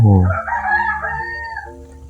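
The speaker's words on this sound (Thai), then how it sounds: "ไก่นี่ ก็ ขันจังเลย" A rooster crows once nearby, a loud drawn-out call that trails off over about two seconds.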